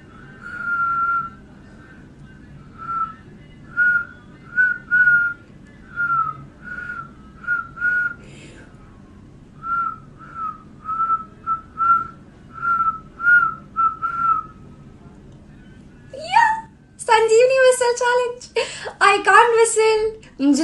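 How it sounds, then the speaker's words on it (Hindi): Mouth whistling for a whistle challenge: a series of short, breathy, steady-pitched toots in a halting rhythm, fairly close, after which a person starts talking. "मुझे सीटी बजाना नहीं आता पर फिर भी मुझे ट्राई करना था"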